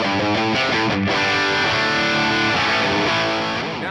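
A Les Paul Custom with Burstbucker pickups played through a cranked Plexi amp model, thick distorted chords ringing out loud with a few quick changes before sustaining.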